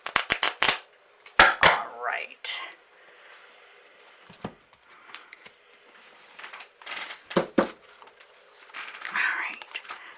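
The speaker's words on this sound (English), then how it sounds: "One more shuffle." Tarot cards being shuffled during a reading, heard as several sharp, crackling riffle bursts at close range, with quiet speech and whispering between them.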